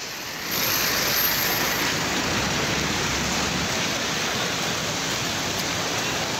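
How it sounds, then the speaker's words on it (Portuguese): Rushing water of the flooded Ubá river running high after a sudden rise, a steady, dense roar of broad churning noise that holds unbroken throughout with no voices. "O volume de água do rio Ubá subiu rápido e assustou os moradores."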